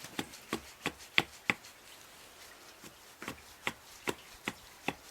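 Hatchet blows chopping into wood while roughing out a carved wooden spoon: a dozen sharp, close knocks in an uneven rhythm, with a short pause midway and no talking.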